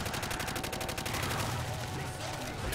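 Rapid automatic gunfire from a weapon in Call of Duty: World at War Nazi Zombies, a dense steady stream of shots layered with game sounds and a voice talking.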